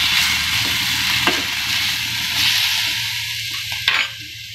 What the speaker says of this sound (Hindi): थोड़ी देर तक इसे फ्राई करेंगे